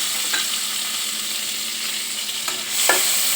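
Ground radhuni and chilli paste dropped into hot oil, giving a steady bright sizzle with a few soft stirring scrapes and a sharper hiss flaring near the end.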